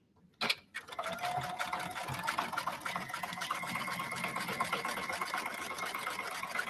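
A sewing machine runs steadily, zigzag stitching over the loose ends of a sling bag, with a quick click at the start and then a continuous close, even whirring hum.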